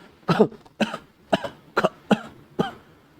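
A man coughing in a fit of anger: six harsh, close coughs in an uneven burst, with short gaps between them.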